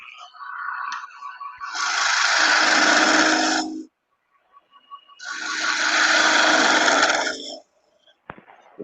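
A wood lathe cutting a table lamp blank gives two loud, sustained bursts of rough, rasping tool chatter, each lasting about two seconds. A quiet pause separates them, and a faint motor hum lingers between the cuts.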